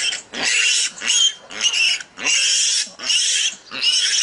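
Loud, close wild boar piglet squeals in repeated bursts in a forest, each shriek lasting about half a second with brief gaps between them.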